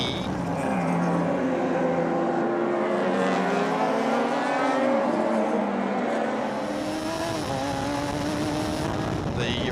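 Race car number 3, the Vantage Freight entry, racing at Sandown, engine roaring loud and continuous with rising and falling pitch as it shifts and passes, under steady commentary.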